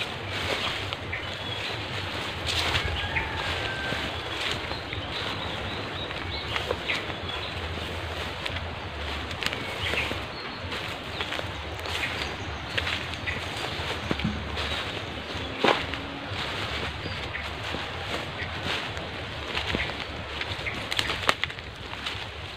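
Strong wind blows steadily outdoors during a squirrel hunt, a broad continuous rush with faint gusty swells and scattered light knocks throughout, no talk.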